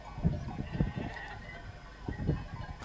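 Goats bleating below a mountain cabin where shepherds live isolated for months, a few short bleats at a moderate distance over quiet outdoor ambience.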